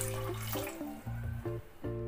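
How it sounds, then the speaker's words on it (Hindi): Water pouring in short bursts into a metal pressure cooker for chickpeas, gurgling and splashing, with a few brief pauses between pours. "इसमें हम थोड़ा सा और पानी डालेंगे।"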